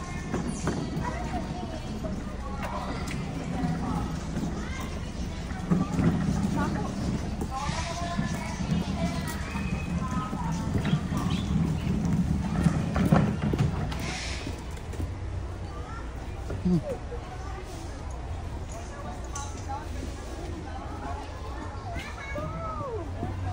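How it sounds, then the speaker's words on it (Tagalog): A small horse walks at the Zoobic Safari park, its hooves clip-clopping fairly faintly beneath steady chatter from children and adults nearby. "Small horse."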